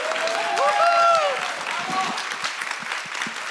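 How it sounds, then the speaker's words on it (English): Applause from an audience standing at a youth forum, a steady broadband patter of many hands under the room's reverb, with a voice speaking briefly over the clapping near the start. "Please stand and give these ladies a rousing round of applause."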